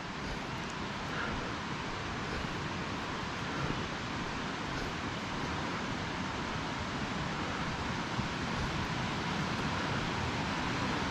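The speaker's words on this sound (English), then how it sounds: "You can hear the roar of the water." Roar of the main river on the Wonderland Trail at Mount Rainier, a broad, steady rushing wash of water, loud and unbroken from start to finish with no voices.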